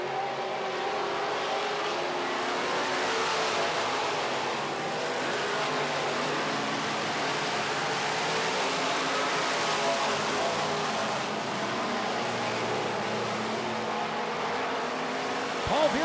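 Midwest Modified race cars battle for the lead on a dirt oval, their engines roaring steadily and loudly throughout, blended into a dense continuous wash of motor noise.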